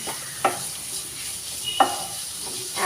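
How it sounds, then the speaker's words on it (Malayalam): Crushed ginger and garlic sizzle softly in hot oil in a pan for Kerala toddy-shop beef fry, a steady close hiss broken by a few light scrapes of stirring. "ഇതിലേക്ക് നമുക്ക് 1 സ്പൂണോളം ഇഞ്ചിയും വെളുത്തുള്ളിയും ചതച്ചത് ചേർത്ത് കൊടുക്കാം. ഇത് നന്നായിട്ടൊന്ന് മൂക്കണം."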